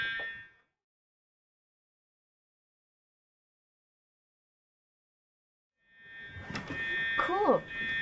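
In the VREPS video game, a brief alarm tone cuts off at the start, then silence follows before a harsh, clanging alarm bell resumes near the end alongside a voice.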